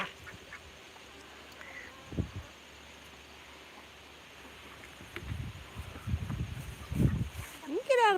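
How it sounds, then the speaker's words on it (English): Duck quacking in short bursts near chickens at feed on a rural farm, moderately close, with faint background noise and a few other bird calls. "A duck is eating the food and throwing the grain on top of the chicken."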